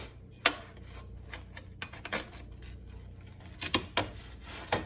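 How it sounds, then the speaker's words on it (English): Pizza being sliced on a metal pizza pan, a series of sharp crunchy cuts and scraping strokes at close range, a few louder bursts standing out over a steady low background hum. "this one I just cut it up on the pizza pan"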